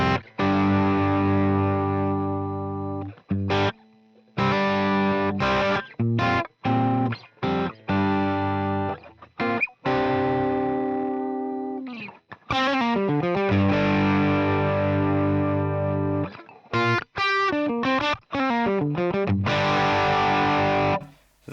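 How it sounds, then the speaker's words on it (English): Electric guitar with a bridge pickup split on a PRS DGT, played through a Fractal FM3 modelling a modified Bassman amp, gives bright, slightly driven chords and single-note runs in stop-start phrases with short pauses, played alone. "this is the second channel of a Bassman, which was modified by Blankenship according to Yex Amp Guide, and doesn't have, bass treble"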